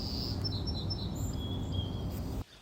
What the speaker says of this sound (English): such as this one from a red cardinal, the official bird of Ohio, with a call that has a buzzing and high-pitched chirp as if running through a copy machine